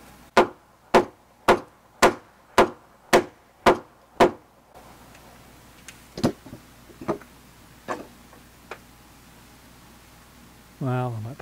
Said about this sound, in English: I'll try with a hammer.